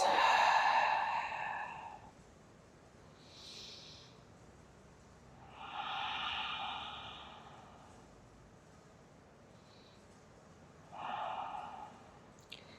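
Slow, deep breaths during a restorative yoga flow, a long airy exhale followed by softer inhales and another breath out, close and unhurried with quiet pauses between.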